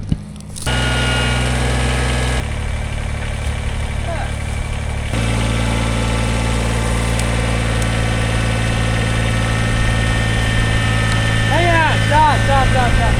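An old Kubota tractor engine idles steadily and close by, its even mechanical hum shifting in tone at a couple of points, with brief squeaks of machinery near the end.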